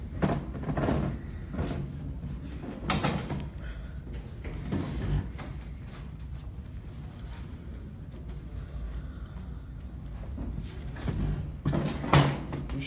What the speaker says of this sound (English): shut that door, please?